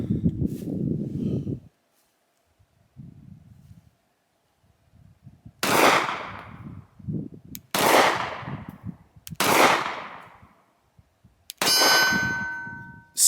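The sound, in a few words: gunshots from Sig Sauer P365 pistol hitting steel targets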